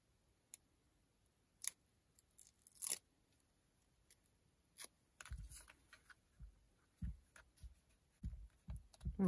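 Scissors snipping paper while a pop-up 3D heart card is made, sparse quiet cuts and rustles spaced out in a calm room, growing into a quicker cluster of small crisp snips toward the end.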